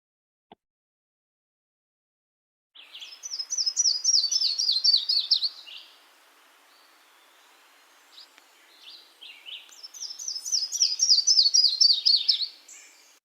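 Two bursts of a fast, bright yellow-throated warbler song, each a rapid run of sweet notes sliding downward, separated by a quiet pause.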